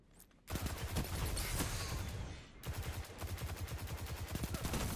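Rapid gunfire in a video game shooter match, sustained bursts of automatic fire after a brief quiet start, a short pause, then more rhythmic shots, loud and alone.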